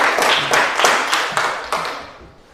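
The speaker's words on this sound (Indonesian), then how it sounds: "Mari kita berikan tepuk tangan untuk kelompok 2" A small classroom group gives a short burst of clapping for a student group, with uneven claps and a few louder accents that thin out and fade by the end.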